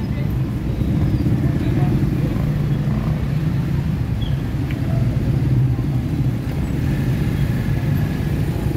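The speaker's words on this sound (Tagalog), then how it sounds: "Nandun, paparkin lang tayo yung jeep." A jeep's engine rumbles steadily at low pitch while being parked, a continuous close drone with people talking over it throughout.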